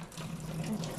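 Tap water runs steadily from a faucet while dyed hair is rinsed in a sink, a continuous close splashing wash with no talk over it.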